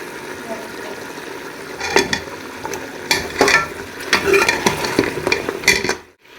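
Mutton paya sizzles in desi ghee while a spoon stirs and scrapes the pot in irregular bursts, with a faint background hum and the sound cutting off abruptly near the end.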